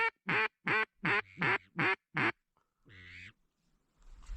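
Ducks quack during a duck hunt, a close run of about seven sharp rhythmic quacks followed by a softer drawn-out call and faint rustling.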